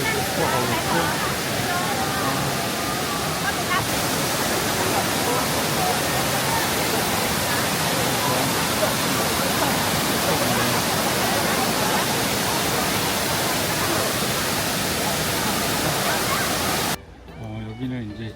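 Steady, broad roar of a wide waterfall in Jiuzhaigou, Sichuan, loud and continuous, with faint talk beneath it before the rushing cuts out near the end.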